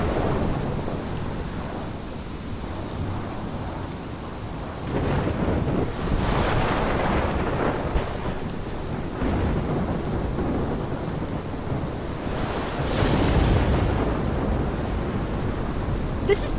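Rolling thunder over steady heavy rain during a storm in the video game Life Is Strange, with swelling rumbles around the middle and a louder crack near the end, no voices.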